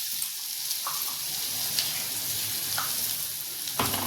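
Ground pepper, cumin and thuthuvalai paste frying in oil for rasam, a quiet, steady sizzle with a few soft scrapes of stirring.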